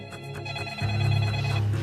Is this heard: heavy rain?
no